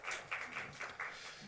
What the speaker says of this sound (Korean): 우리 귀한 찬양 하나님 앞에 감사의 영광의 박수를 돌려드립니다